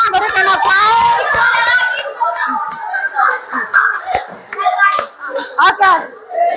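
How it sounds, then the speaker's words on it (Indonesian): A classroom group of children and adults claps together, a brief burst of hand slaps and smacks that breaks into uneven, scattered claps, with children's voices chattering over it. "Berikan aplaus."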